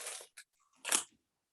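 Crisp crunching bites into cinnamon toast crunch popcorn, a few short close snaps and crackles in quick succession within a quiet moment.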